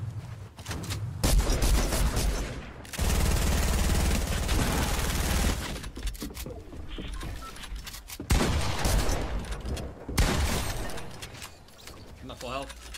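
Gunfire in the battle royale game Fortnite, rapid bursts of shots in loud clusters separated by brief lulls, mixed with in-game effects and people talking.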